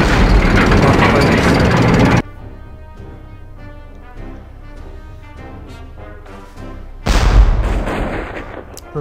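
Combat sound effects from the Strategic War in Europe strategy game: a loud burst of artillery-like booms and gunfire at the start and again near the end, with a quieter stretch of background music between them.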